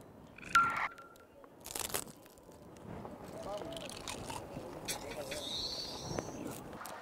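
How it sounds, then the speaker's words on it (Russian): Crunchy, crumbly food is broken apart and eaten outdoors in Tajikistan, giving faint, brittle crunches in a few short bursts. Quiet voices murmur in the background. "А как хрустит?"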